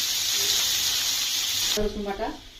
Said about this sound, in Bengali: পেঁয়াজটা মোটামুটি ভাজা হয়ে এসছে